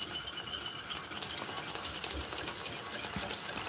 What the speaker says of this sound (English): I'm gonna grab myself a whisk